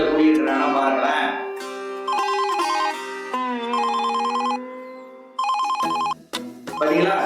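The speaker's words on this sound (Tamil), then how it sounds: "பாத்தீங்களா, பெல்லு கூட அடிக்குது பாருங்க." A telephone bell rings in repeated bursts with pauses between them, set against music and a short bit of talk.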